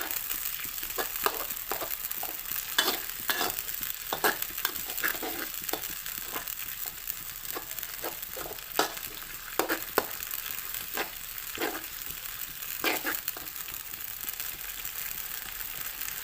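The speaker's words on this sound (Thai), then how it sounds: "ใส่ปลากระป๋องลงไปผัดนะคะ" Canned fish being stir-fried with morning glory in a pan makes a steady close sizzle, with repeated scraping and clacking strokes of a spatula as the fish is broken up.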